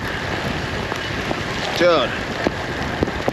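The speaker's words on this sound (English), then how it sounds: "I don't think you can see how much rain there is, but there's a lot." Heavy rain storm in Wisconsin, with a steady wash of rain and wind buffeting the microphone throughout. Someone briefly speaks over the downpour.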